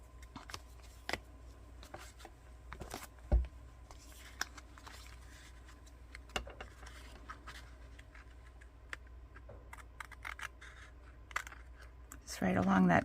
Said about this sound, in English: And then I just freehand cut it with my scissors